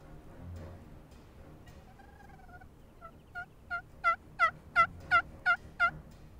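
Wild turkeys gobble during a spring hunt, a series of about eight distinct gobbles growing louder and closer with a steady rhythm, preceded by softer calls, with little else heard.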